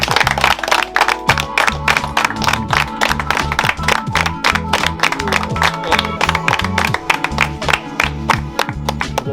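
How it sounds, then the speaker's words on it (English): Group of people clapping for a donor at a community gathering in Trench Town, loud close hand claps in a fast uneven rhythm over a steady low hum, with crowd noise mixed in. "I want to give the mystery lady a round of applause."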